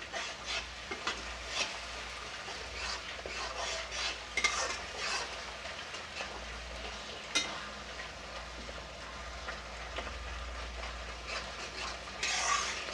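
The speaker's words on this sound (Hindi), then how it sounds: "बिल्कुल छोड़ नहीं रहे हैं, इसको चलाते हुए भून रहे हैं।" Garlic and onion being stir-fried over a high flame in a pan for soybean kofta curry, with a continuous soft sizzle, frequent spoon scrapes and clinks against the pan, and one faint bark in the background.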